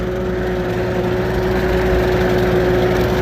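A brush cutter fitted with a two-blade setup mows through tall grass, its engine droning loud, close and steady with a constant tonal whine and no pauses or talking.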